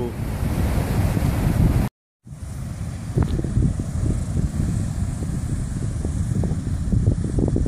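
Ocean surf washes in at Piha beach, New Zealand, a loud continuous roar with wind buffeting the microphone and a short drop-out partway through.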